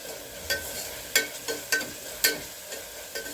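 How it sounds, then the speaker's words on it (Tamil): Tomatoes sauté in a pan for a Kongu-style rice and dal dish, a soft sizzle broken by about six sharp scraping stirs at close range, with no voices. "நல்லா வதங்கிடுது தக்காளி நல்லா கொஞ்சம் குழஞ்சிரும்"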